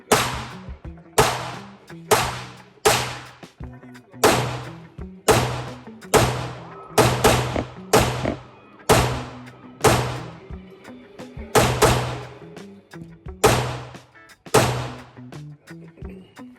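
Custom-built Glock 17 pistol firing about fifteen sharp, loud shots at a steady, slightly uneven pace, each crack followed by a short ringing decay, with no talk over the shots.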